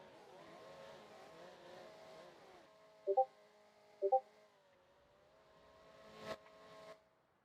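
Cars driving in a Roblox racing video game, with steady engine drone, a few sharp tonal blips in the middle and a brief louder burst near the end, no talking.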